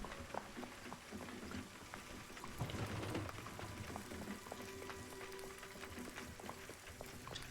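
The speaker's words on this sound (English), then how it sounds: "And it continues to rain," Steady rain falling, a soft continuous patter with scattered drips close by and a faint low rumble in the background, no voices.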